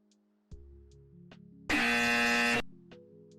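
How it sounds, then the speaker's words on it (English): Electronic incorrect-answer buzzer sound effect, a harsh loud blast of about a second between soft tonal blips and low synthetic hums. "Sorry for the incorrect buzzer sound"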